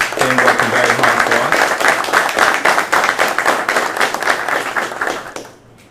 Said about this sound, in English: I'd like to give them a round of applause for them working very hard